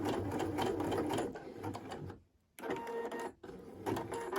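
A domestic sewing machine runs a quick back stitch on a jumpsuit, a fast mechanical whir heard close and quiet that stops briefly twice and restarts, with no talking.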